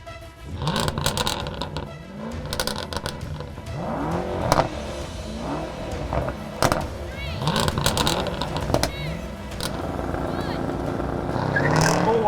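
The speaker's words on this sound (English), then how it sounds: "a standing quarter-mile drag race" A Jaguar F-Type SVR and a Mercedes-AMG E63 S launch in a standing quarter-mile drag race. Engines roar and rise in repeated climbing sweeps through gear changes, with tire noise and a voice talking over the run.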